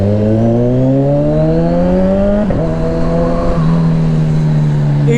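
A Kawasaki Ninja 1000SX motorcycle engine roars loudly and close, pitch climbing steadily as it revs through the gears, with a brief dip at a shift before it settles into a strong, sustained drone.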